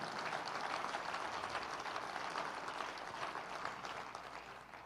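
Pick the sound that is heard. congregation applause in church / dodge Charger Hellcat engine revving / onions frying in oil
congregation applause in church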